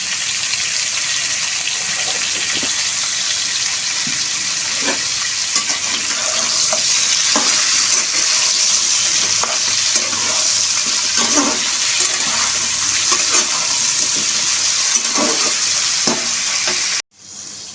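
Malabar spinach sizzles in a hot pan with turmeric and salt, a steady loud frying hiss broken by scrapes of a spatula stirring, with no talk, until it cuts off sharply near the end.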